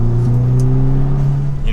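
A car fitted with a Pedal Commander throttle controller pulls forward under added throttle, its engine giving a close, steady droning hum that climbs slightly in pitch and holds.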